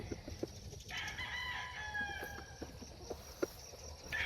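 Roosters and chickens at a Filipino gamefowl farm, with a clear crowing call rising and falling over about two seconds amid background clucks and farmyard noise, fairly close.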